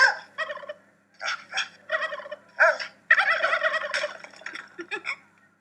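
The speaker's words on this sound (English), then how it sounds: "noisy turkeys." Turkeys at a market gobble in repeated loud, rattling bursts, several overlapping calls close by with short gaps between them and no talking.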